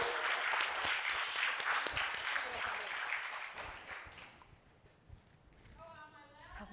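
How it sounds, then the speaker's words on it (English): An audience applauds for Quentin in a dense burst of clapping and cheering that gradually fades. Scattered voices and a whoop come through as it thins out. "Let's give Quentin a round of applause"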